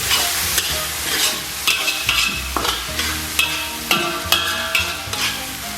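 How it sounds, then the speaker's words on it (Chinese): Chili sauce and dark soy sauce stir-frying in a wok, a continuous sizzle broken by repeated rhythmic scraping strokes of a spatula, close and clear with no talk. "给它简单炒出红油，然后咱们给里边来点红烧酱油啊"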